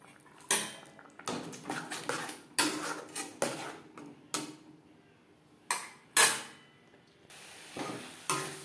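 Spices being stir-fried in a pan for a duck egg curry on low to medium flame: irregular clinks and scrapes of a utensil against the pan, several sharp knocks spread through, no talk.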